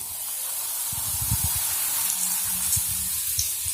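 Puri dough drops into hot oil and fries with a continuous hissing sizzle, with scattered soft pops and bubbling thumps partway through, close and fairly loud, with no voices.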